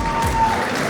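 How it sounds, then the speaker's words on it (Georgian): A grappling event audience breaks into a short burst of applause, moderately loud and close, lasting under a second. "გთხოვთ აპლოდისმენტები მათ"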